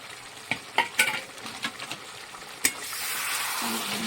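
Egg curry with coriander leaves is stirred in a pan, a series of sharp spoon scrapes and knocks over a soft sizzle, followed by a steadier frying hiss toward the end.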